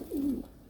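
A single pigeon gives one short, low coo up close, a brief throaty rolling note with nothing else around it.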